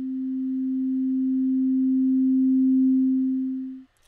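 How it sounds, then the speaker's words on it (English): A single pure Sonic Pi synth note holds steady for about four seconds, swelling gradually in loudness over four beats before stopping abruptly, with no other sound around it. "we hear the note fade in over 4 beats"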